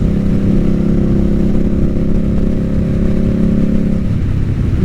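A 2022 Indian Scout Bobber motorcycle riding through town, its engine droning as a loud, steady low rumble that holds throughout with little change in pitch and no voices over it.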